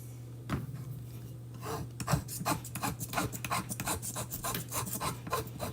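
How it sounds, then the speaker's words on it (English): Rasping, rubbing strokes of sanding across a chalk drawing on a reindeer craft piece, a steady series of close scrapes over a low background hum, with no voices. "Just sand that away."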